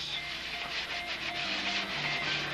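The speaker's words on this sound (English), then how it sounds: "Now steel wool is just like sandpaper. It's going to remove material, so you don't want to go crazy." Steel wool rubbed back and forth over a wooden surface, a steady close scratchy rasp with soft rhythmic strokes and no talking.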